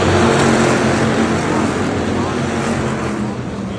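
Hobby stock race cars roar around a dirt speedway, a dense continuous engine drone at high volume that fades slightly toward the end, with an announcer talking over the noise.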